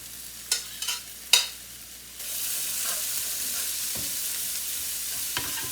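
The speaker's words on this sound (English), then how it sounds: "Let's put this in here. So, we got onions and potatoes." Onions and potatoes dropped into a pan with a few sharp knocks, then a steady loud sizzle of frying that carries on with an occasional tap, no voices.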